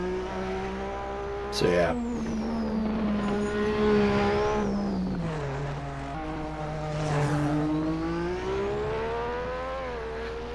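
A Formula One race car's Ford Zytec V8 engine revs loudly and close by, pitch climbing and dropping through repeated throttle blips and gear changes, with a brief spoken word over it.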